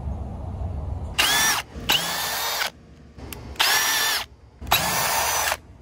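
A power drill or impact driver pulls bolts from a business sign in four loud, close bursts of whirring, each rising in pitch and separated by short pauses, with no one talking.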